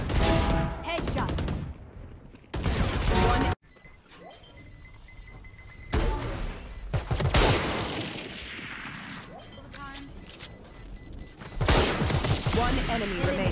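Sharp gunshots and short bursts of fire from the video game Valorant on the Breeze map, loud and separated by brief gaps, with game announcer lines and a player talking between the shots.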